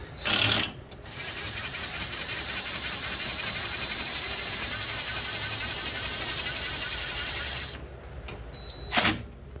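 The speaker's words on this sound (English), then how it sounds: "Now I'll tighten it." Tightening a bolt on a Yamaha Rhino 660 lift: a steady whirring drive from a power tool runs for several seconds, framed by short louder bursts at the start and end, close and alone.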